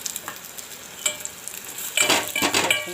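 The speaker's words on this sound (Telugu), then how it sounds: "ఉల్లిపాయలు పచ్చిమిరపకాయలు ఇందులో ఉడకబెట్టుకున్న బంగాళదుంపలు వేసుకోవాలి." Boiled potatoes drop into a pan of frying onions and green chillies for a potato curry, giving a steady low sizzle that swells into a louder, crackling burst of frying and stirring partway through.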